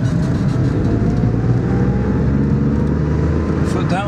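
Daihatsu Charade kei car pulling away in second gear on a freshly replaced clutch, the small engine giving a steady, close interior drone with a faint rising whine throughout.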